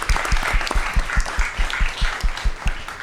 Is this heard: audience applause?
yes